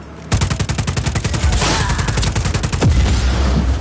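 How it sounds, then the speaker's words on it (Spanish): Rapid automatic gunfire in Just Cause 4, a loud, sustained burst of dense shots with a heavy boom partway through, continuing for several seconds without talk. "Sí, le están pegando muchos tiros."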